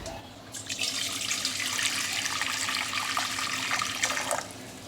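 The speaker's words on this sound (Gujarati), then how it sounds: "હવે તેની અંદર આપણે ગરમ પાણી લઈશું" Hot water pours steadily into a pot for several seconds, a continuous splashing rush close by with no talking.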